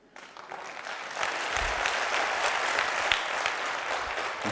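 An audience at a seminar claps in a dense, steady wash of applause that swells within the first second and then holds loud and even until the end, with no talking over it.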